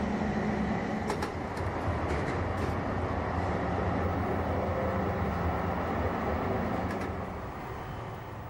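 An old Bochum tram runs steadily along its line, a continuous rumbling rail roar with a few brief higher squeals, holding level before easing off slightly near the end.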